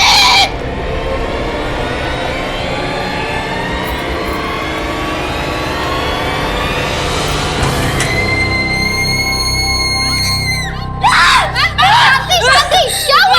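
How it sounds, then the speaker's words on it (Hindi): A woman screams in a horror drama scene, a loud sustained cry with rising pitched wails and sharp bursts near the end, layered over a dense, noisy background. "आप इतना चीख क्यों रही थी?"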